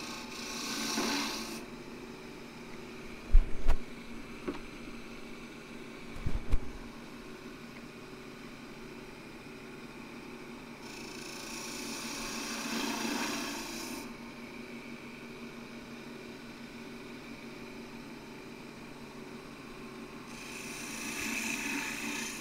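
A wood gouge cuts a finial on a lathe in three separate passes, each a rasping, hissing shave over a steady low motor hum. A few sharp knocks fall in between.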